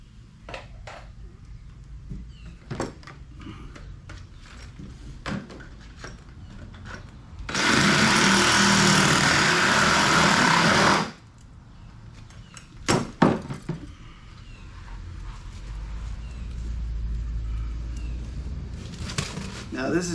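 A power saw cuts schedule 120 PVC pipe in one loud, steady burst of about three seconds, with clinks, handling knocks and quiet talk before and after.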